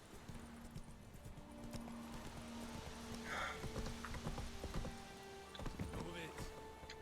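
Roach the horse's hooves clip-clop in The Witcher 3, a steady plodding rhythm near and moderately loud, with a low hum and game ambience beneath and a voice speaking briefly over it.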